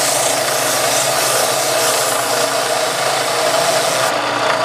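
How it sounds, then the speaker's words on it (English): A belt sander running continuously, a loud dense abrasive whirring roar that holds steady throughout, with no voices. "I'm going to touch up my belt sander for the next job."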